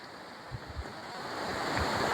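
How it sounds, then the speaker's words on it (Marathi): Small waterfalls along a river in the green Konkan countryside give a steady rushing of flowing water, a broad continuous wash that swells slightly louder toward the end, with a few low thumps and some wind on the microphone. "पाहू शकता कसे छोटे छोटे वॉटरफॉल आहेत"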